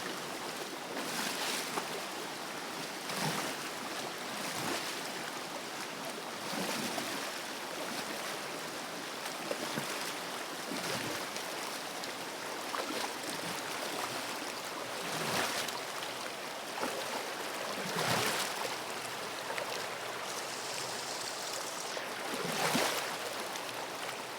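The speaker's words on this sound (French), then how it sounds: "Ah bah aujourd'hui elle est calme hein, la rivière." A calm river flowing, a steady soft wash of water with faint splashes and gusts recurring every few seconds, moderately distant and with no voices.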